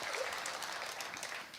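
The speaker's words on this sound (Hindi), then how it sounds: "पूरे सदन की ताली यहां बजनी चाहिए।" An audience at a Hindi poetry recital breaks into a brief burst of dense, steady clapping that fills the hall evenly, with no speech over it.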